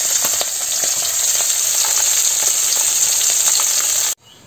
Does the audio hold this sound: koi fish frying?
yes